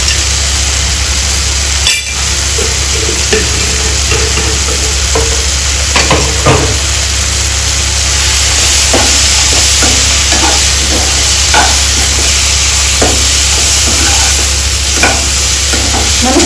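Ridge gourd curry is stir-fried in a pan, producing a loud, continuous close sizzle with repeated spatula scrapes and taps against the metal throughout.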